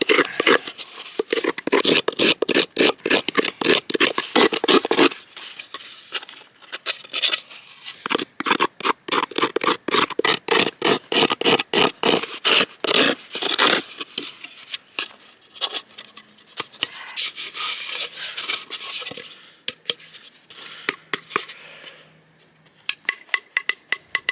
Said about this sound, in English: Use this little flatter edge and this rounder edge to really get into the bottom of this gourd and scrape.